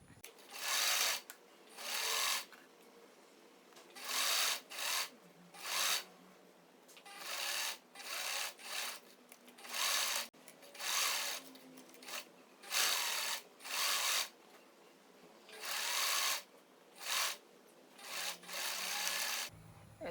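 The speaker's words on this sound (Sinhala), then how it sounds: "ඒක දිගේ මම අඟල් 3 කාලක් මෙහෙම වස් හිටින විදිහට සයිඩ් සීම් එක මහගන්නවා." A sewing machine stitches the side seam of a sleeveless top with square armholes, running in repeated rasping bursts of a second or so separated by short pauses. The machine is close and steady, with no talking.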